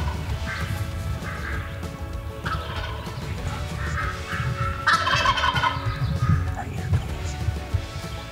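Wild turkeys gobbling in the Adirondacks of New York during a hunt, repeated rattling gobbles at moderate distance over steady outdoor background noise.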